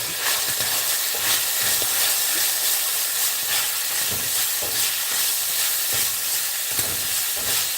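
Ground beef frying loudly in a pan, a steady broadband sizzle with repeated scraping stir strokes running throughout, close and continuous.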